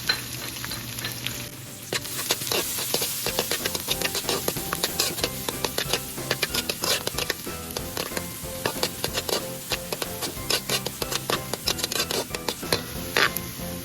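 Onions sautéing in a hot pan after garlic for Kapampangan pancit palabok, a dense steady sizzle with frequent stirring clinks and scrapes throughout, close and fairly loud with no talking.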